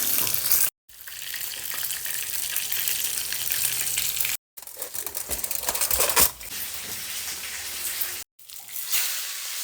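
Hot oil sizzles and crackles steadily as a big white snapper fish fries in a pan, close and loud, with brief cuts of silence between stretches of frying.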